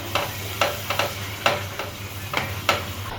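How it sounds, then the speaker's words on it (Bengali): Chilli, coriander and cumin masala with salt is stir-fried in oil in a pan, heard as a string of regular scraping strokes over a faint sizzle, close and clear, with no talking. "আর এটা এখন ভালো করে কষিয়ে নেব মশলাটা"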